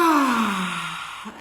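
A single deep, audible breath, close and fairly loud, with a slightly voiced, sighing quality that fades over about a second.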